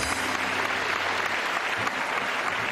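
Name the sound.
applause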